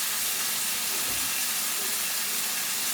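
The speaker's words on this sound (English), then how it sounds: "Let me wash my hands off." Tap water runs steadily in a kitchen while hands are washed, a constant broadband hiss and splash at close range with no talking over it.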